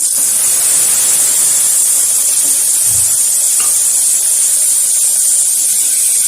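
Washed lentils drop into a hot pan with cumin, and a loud, steady sizzling hiss fills the whole stretch close up, with a faint soft thump of the lentils landing.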